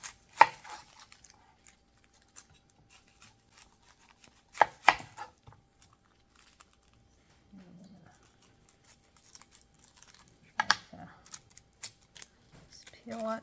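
Knife work on a red onion, with sparse clicks and dry crackles of skin being peeled, then a few sharp, close chopping taps on a cutting board, spaced out with quiet gaps between them.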